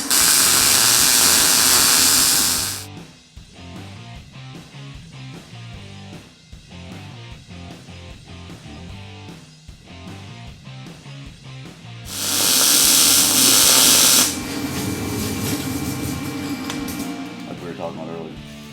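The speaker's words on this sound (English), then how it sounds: "When you're welding tubing, the goal is to start and go all the way around the tubing in one shot." Steel tubing is welded for an RZR UTV roll cage, two loud, steady hissing bursts of several seconds each, with someone talking in the gaps between them.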